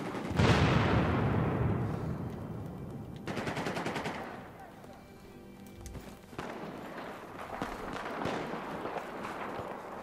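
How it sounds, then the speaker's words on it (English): Heavy gunfire and mortar fire in the Battlefield video game, a dense loud burst opening the stretch, then repeated crackling volleys and distant booms rolling on throughout. "Are they mortaring now?"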